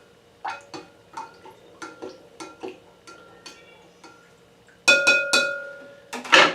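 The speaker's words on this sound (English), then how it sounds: "So we're going to give that a little stir." A spoon stirring raspberry moonshine mixture in a container, a string of evenly spaced clinks and taps against the sides, growing louder and busier toward the end.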